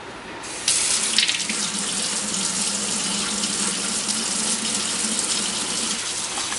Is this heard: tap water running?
yes